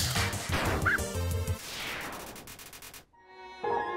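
A dog barks in the Undertale video game, with sharp yips and crashing game sound effects in a dense, loud burst of chiptune-like noise that cuts out briefly before the music resumes.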